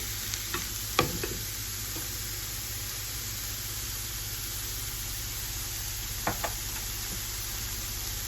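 Rinsed beans sizzle steadily in a pan with sautéed onions, a constant hiss broken by a few soft stirring scrapes and clinks near the start and again later, with no talking.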